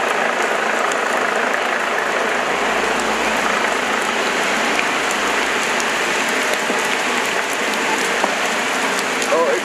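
Torrential rain pours down loud and close, a dense, unbroken hiss of heavy drops hitting surfaces that holds steady from start to finish.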